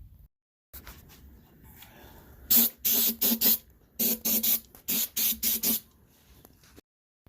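Aerosol can hissing in a series of short, sharp bursts, close up, spraying a car engine's intake manifold area, with brief pauses between sprays and no talking.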